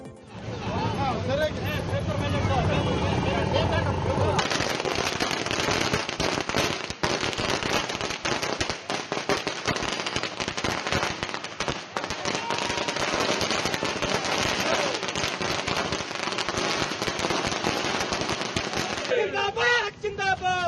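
Party workers set off strings of firecrackers at a political victory celebration, a long, dense, loud crackle of rapid bursts that goes on and on, with a crowd's noise and voices mixed underneath.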